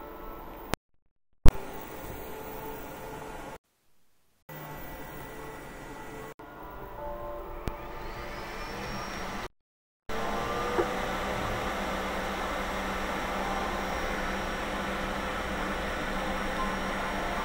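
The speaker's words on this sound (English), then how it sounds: "Also sorry for the noise, but it's a loud printer." A Creality K1 Max 3D printer running loudly, its steady fan-like whir and mechanical hum filling the room, with stepper-motor whines rising and sliding in pitch, broken by a few abrupt cuts.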